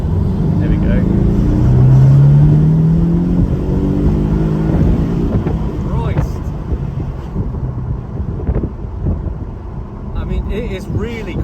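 Porsche 718 Cayman with a 2-litre turbo engine accelerating hard from inside the cabin, a rising engine tone sweeping upward over the first few seconds then settling, with a person talking over the road and wind noise.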